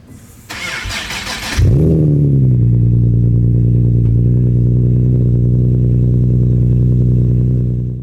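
A 2013 Nissan 370Z starting up: a brief cranking whir, then the engine catches with a loud flare of revs and settles into a steady, deep idle that carries on to the end.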